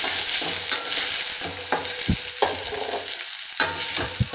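Curry leaves, coriander leaves and green chillies fry in hot oil in a pan for egg idli upma. A steady close sizzle runs throughout, broken by scraping and clinking from a spoon stirring the pan, with no talking.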